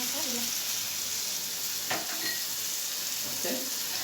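Cumin powder and green chili fry in hot oil, a steady close sizzle with a couple of brief scrapes and knocks as a spoon stirs the pan.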